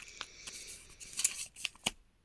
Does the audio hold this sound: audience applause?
no